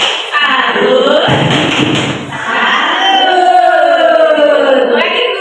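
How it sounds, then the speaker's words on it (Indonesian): A group of adults stands and performs a thumb-clapping salute cheer, shouting the call together in loud rhythmic bursts with a short flurry of clapping midway. "Nah, yang semangat tepuknya yang kencang."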